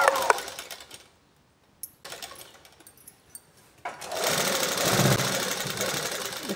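A sewing machine stitching a blouse gives short bursts of clatter early on, then quiet gaps with light handling noises, before a sustained, fairly loud run of stitching near the end.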